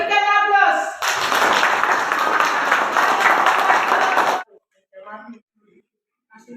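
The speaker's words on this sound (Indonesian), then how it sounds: "Berikan aplaus." Classroom applause for a student group, a dense burst of clapping from many hands lasting a few seconds and then stopping abruptly, with a voice speaking just before and brief murmurs afterward.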